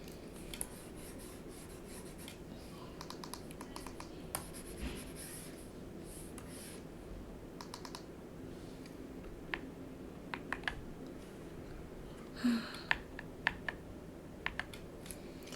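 Quiet clicking and tapping from a new, chunky computer keyboard, soft irregular keystrokes with a few sharper clacks over a faint steady background hum, no talking.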